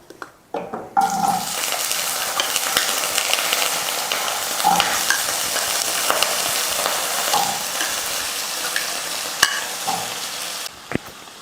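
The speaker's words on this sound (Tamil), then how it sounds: "எண்ணெய் காஞ்சிருச்சு இப்போ இதில் உருளைக்கிழங்கு சேர்த்துடலாம்" Potato pieces fry in hot oil for a potato stir-fry, making a loud, continuous, crackling sizzle that holds steady for the whole stretch, with occasional sharper pops and no voices.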